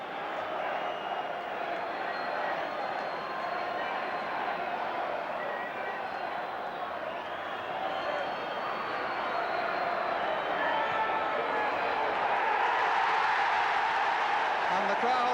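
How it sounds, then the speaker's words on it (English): Crowd at a Coventry City versus Liverpool football match applauding a victory, a broad distant wash of clapping and murmur that swells slightly near the end. "And the crowd applauding a victory for the kids."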